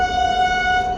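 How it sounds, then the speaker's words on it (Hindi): A train passes close by, sounding a loud sustained horn over the rumble of rail cars for about a second. "रेल भी निकल रही।"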